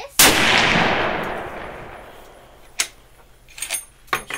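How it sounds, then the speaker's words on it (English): A single loud rifle shot from a Mossberg Patriot chambered in .375 Ruger, a sharp close blast whose echo fades over about two seconds, followed by a few metallic clicks from working the action. "Shoot another one for the camera."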